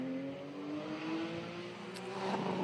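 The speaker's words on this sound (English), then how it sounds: "John Sitton's just passing our position now in the Datsun 240Z" A Datsun 240Z race car at a sprint event passes by as a faint, steady engine whine with a gradually shifting pitch, heard from a distance for a couple of seconds.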